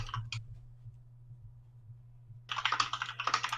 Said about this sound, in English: Who's furiously typing on their keyboard saying how annoying I am?